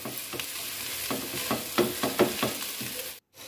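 Semai vermicelli with raisins stirred continuously in a pan, a run of close scraping and clinking strokes over a faint sizzle, no voices.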